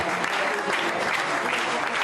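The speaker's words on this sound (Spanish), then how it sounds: "aplausos cuando llega Rajoy. Una larga ovación." A long ovation for Rajoy at the PP national executive on election night, dense continuous applause from a large crowd, loud and unbroken.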